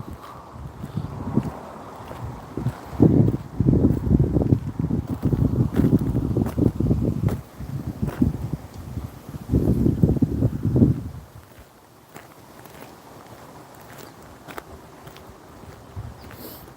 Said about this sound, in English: it's like super windy as well